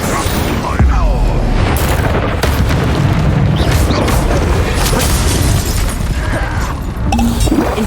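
An Incendio fire spell goes off in Hogwarts Legacy combat, with loud booming bursts and crackling blasts packed into a noisy fight sequence.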